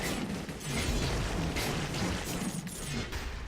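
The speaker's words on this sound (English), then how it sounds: "And there go the explosions." Ivy Grenade explosions in the video game Dead Cells, a dense run of loud booming bursts that overlap one another into a continuous rumbling barrage with crackling highs.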